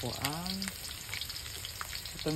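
Ginger sizzles and fries steadily in a hot pan for a Tagalog-style sauté, a dense continuous crackle with brief stirring clinks and a short spoken tone at the start and end.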